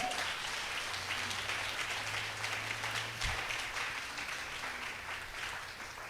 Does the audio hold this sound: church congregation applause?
yes